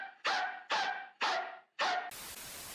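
A person imitates a dog in VRChat with four loud, close yelping barks at an even pace, each fading away, followed by a burst of harsh noise.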